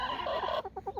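A flock of about a dozen chickens clucking close by, a busy overlapping chatter that gives way to several short, evenly spaced clucks.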